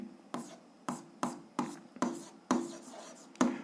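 A pen writes an algebra equation on paper, close and quiet, in seven or eight short scratchy strokes at an uneven rhythm.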